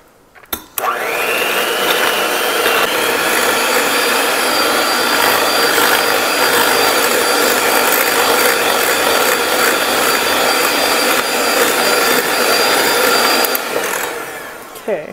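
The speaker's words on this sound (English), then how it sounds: "mash these with the mixer here" Electric mixer mashing muffin ingredients in a bowl, a loud, close, continuous whirring drone that starts suddenly and runs without a break for over ten seconds before cutting off.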